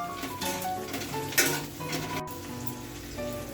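Onions fry with chicken masala in a pan while being stirred, giving a moderate crackling sizzle with intermittent utensil scrapes and one sharp clink.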